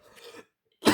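A short rough throat-clearing burst, a brief silence, then the start of a sharp cough cut off at the end.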